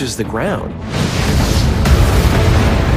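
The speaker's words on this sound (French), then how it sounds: "l'astéroïde explose en dégageant plus d'énergie que 30 bombes atomiques" An asteroid explodes in the atmosphere with a deep rumbling blast followed by a sustained roaring shock wave, loud and continuous, with a voice heard briefly at the start.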